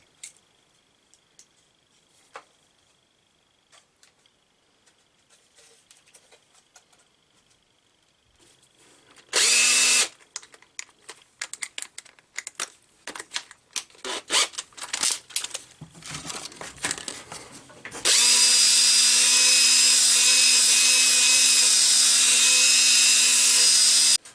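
Aftermarket gauges for a 240 sanded by hand with sandpaper so they fit: scattered scraping and rubbing strokes, then a loud, steady rasping run of sanding near the end.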